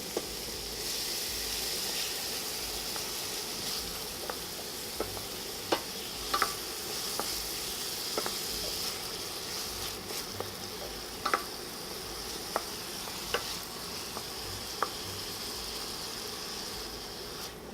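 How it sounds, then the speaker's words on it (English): Diced tomatoes hit a sizzling pan, producing a continuous frying hiss punctuated by repeated sharp taps and scrapes of a spoon stirring, moderately quiet and with no speech. "Now we're going to add our diced tomatoes."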